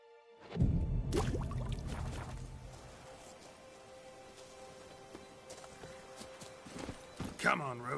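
Roach, the horse in The Witcher 3, trots: a loud rush of hooves at the start fades into softer, steady clip-clop beneath in-game music, with voices talking.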